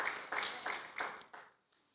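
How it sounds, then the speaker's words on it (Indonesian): A church congregation claps for Jesus in a few short bursts of applause, faint and distant, fading out within two seconds. "yang bersuka cita boleh tepuk tangan yang panjang bagi Tuhan Yesus"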